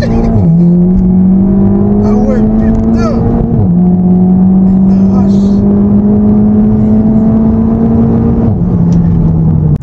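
A 360 hp Seat Leon Cupra pulls hard through the gears, its engine rising loudly in pitch, dropping briefly at each of two upshifts and climbing again, heard from inside the car with a short exclamation from the occupants.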